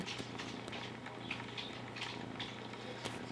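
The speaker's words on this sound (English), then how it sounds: "She's purring so loud." A soft, steady purr from a small cat, low and continuous with faint crackly texture, close by and without any talking.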